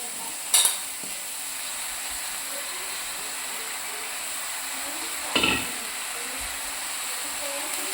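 Spinach stirred into a masala of turmeric and spices frying in a pan for aloo palak, giving a steady low sizzle with a couple of brief scraping stirs.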